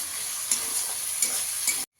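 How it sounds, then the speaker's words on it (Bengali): Chopped onions sizzle steadily in hot oil in a pan after a cumin tempering, with a few louder stirring scrapes before the sound cuts off abruptly. "পেঁয়াজটাকে একটু হালকা করে ভেজে নেব।"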